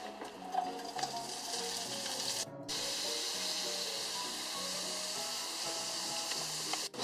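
Chorizo sizzles and spits in a hot pan as it browns, a steady close frying hiss with a brief break partway through and a few sharp crackles.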